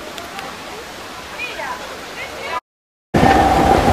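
The Tiki Splash water ride at PortAventura rushes and splashes with a steady loud wash of water, cut by a brief gap and then returning louder and closer.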